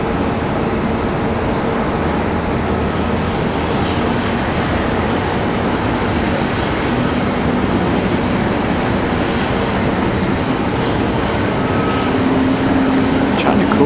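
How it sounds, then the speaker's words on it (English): An American Airlines Boeing 737 MAX 8 arriving from Miami at Raleigh-Durham airport produces a constant, dense engine rumble with faint droning tones, steady in loudness across the whole stretch. "Next arrival is going to be American 2756 coming in from Miami. That one's going to be the MAX 8."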